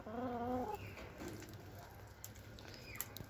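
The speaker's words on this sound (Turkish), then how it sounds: "Üçüncü tavuğum nerede?" A hen gives a short run of clucks near the start, then quieter rustling and pecking sounds follow, with faint background noise.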